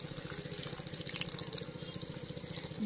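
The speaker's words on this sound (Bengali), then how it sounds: "ভালো করে চটকে চটকে এই লাল জলটা যতটা পারা যায় জলটা ফেলে দেবো" Red water squeezed and drained from soaked dried cabbage, a continuous close wet trickling and splashing with a faint pulsing undertone.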